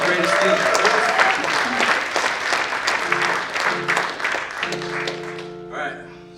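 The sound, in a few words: audience applause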